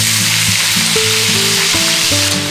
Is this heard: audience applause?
no